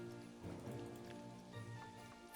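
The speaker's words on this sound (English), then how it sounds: "Compare it to heavy rain" Heavy rain in the video game Planet Coaster 2, a faint, steady patter over a low tonal hum, with no voices.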